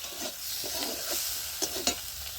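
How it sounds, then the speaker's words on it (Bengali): Flat beans with white sesame seeds fry in a pan with a steady sizzle. Spatula strokes stir the pan repeatedly, and a couple of sharper clinks come near the end. "তো শিমটা আমার ভাজা হয়ে গেছে, তিলটাও ভাজা হয়ে গেছে।"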